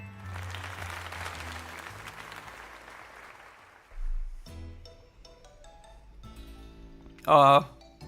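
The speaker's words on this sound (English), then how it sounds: "let us give another heartfelt round of applause to Milia." A crowd in the Pokemon Legends Z-A video game breaks into a wash of clapping and cheering that swells and then fades out. Soft game music and sound effects follow.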